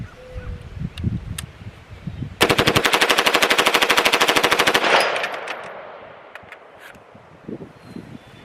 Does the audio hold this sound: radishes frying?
no